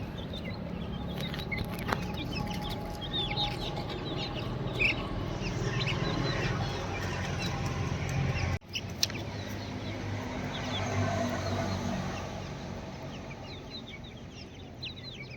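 Young chicks being raised on a poultry farm and recovering from weakness, cheeping and clucking faintly and continuously over a low background murmur, with no one speaking.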